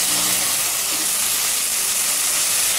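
Chopped tomatoes hit onions sautéing in a pan for a chicken kuzhambu, giving a loud, steady broadband sizzle and hiss that holds evenly throughout with no talking.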